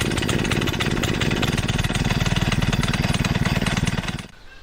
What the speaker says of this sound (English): the first time you're going to start your engine when receiving it is to let it run at idle for 5 minutes